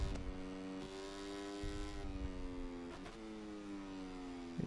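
Honda Moto3 motorcycle engine in the video game MotoGP 24, a steady high-pitched engine whine that keeps shifting pitch as the bike accelerates, with brief dips where gears change. It plays alone at a fairly low level.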